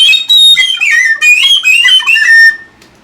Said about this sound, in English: This is a very, very low breath whistle, a very quiet, indoor, enjoyable little thing.